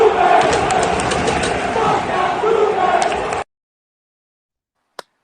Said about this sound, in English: That sounds like an ECW crowd at the Hammerstein Ballroom